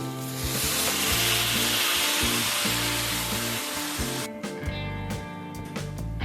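Cauliflower stems frying in a pan hiss with a loud, steady sizzle as water goes in, followed by clinks and scrapes of stirring, with no talking.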